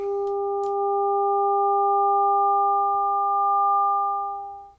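A synthesized sine-tone note holds steady for several seconds with a couple of faint upper partials, swelling slightly and then cutting off cleanly, panned from one speaker toward the other and back.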